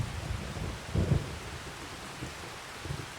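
Steady rain falling in Farming Simulator, a continuous close hiss with a low rumbling swell around the middle and softer thuds near the end, no voices.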